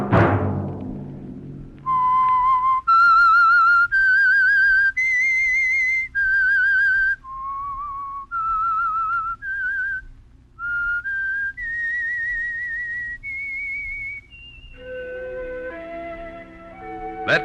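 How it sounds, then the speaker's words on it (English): Whistled theme of the old Signal Oil radio drama The Whistler: a lone, loud, clear human whistle carrying a slow, wavering melody of sustained notes, ending as an orchestra swells in. "Let that whistle be your signal for the Signal Oil program, The Whistler"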